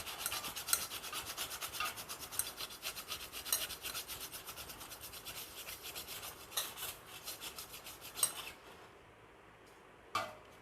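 A burnt cooking pot is scrubbed with an ordinary scrubber, giving a steady, close rasping rub with light metallic scrapes and clinks, continuing for about eight seconds before easing into quieter, sparser strokes.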